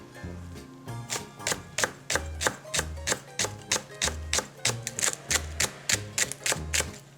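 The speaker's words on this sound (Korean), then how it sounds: "대파 한 대를 송송 썰어 준비해 주세요" A knife slices a green onion on a cutting board in quick, even taps, a steady run of close, crisp knocks with a woody undertone.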